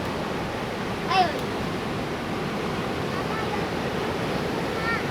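Ocean surf at Ngitun Beach in Tepus, Gunung Kidul, a continuous loud wash of breaking waves mixed with gusty wind rumble on the microphone and faint distant voices beneath.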